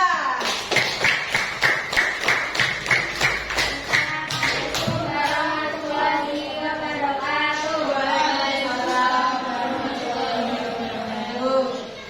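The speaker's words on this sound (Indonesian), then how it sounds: "tepuk tangan untuk kelompok 2." A short burst of classroom clapping for a student group, rhythmic claps at first, then fading as people start talking over it.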